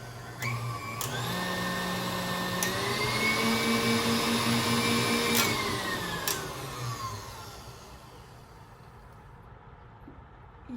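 A KitchenAid stand mixer motor whirs steadily under children's use, its pitch climbing as the speed is raised in steps, then winding down and fading toward the end, with no talk over it.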